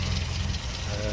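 A cold, standard car engine idles with a rough, shaking low rumble that holds steady and close throughout.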